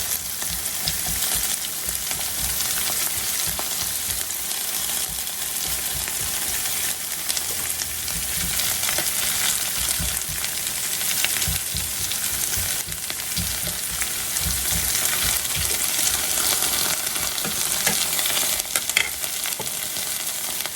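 Breakfast potatoes fry until crisp in a skillet, producing a loud, steady, close hiss of oil with fine crackles and occasional pops, heard alone without talking.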